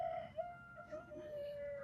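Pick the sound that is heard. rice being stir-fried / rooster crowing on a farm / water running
rooster crowing on a farm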